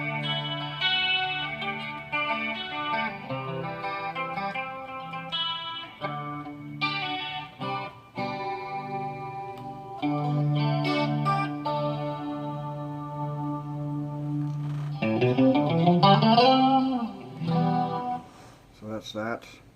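Layered, shimmering instrument notes processed by the symphonic chorus effect of a Yamaha REX 50 effects unit, with steady held chords and a swirling, rising passage near the end, continuous and fairly loud.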